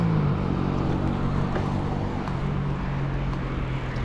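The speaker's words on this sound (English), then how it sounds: "Beautiful sunny day, a lot of car noise." Car traffic rolls past continuously on a sunny day, a loud, steady roadway rumble with engine drone close by, captured on a GoPro HERO 11, with no one speaking.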